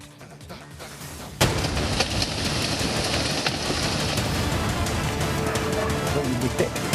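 Heavy downpour at Shiradi Ghat during landslide-hit monsoon weather, starting as a quieter rumble and then bursting into a loud, dense, continuous roar of rain that holds steady to the end.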